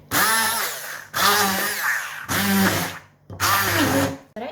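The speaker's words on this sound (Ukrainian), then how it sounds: "Охолонула, беру блендер. І все буду перебивати в однорідну масу." A blender purees cooled chicken liver filling in four loud bursts of whirring, each lasting about a second, with short pauses between them.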